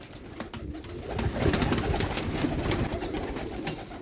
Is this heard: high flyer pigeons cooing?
yes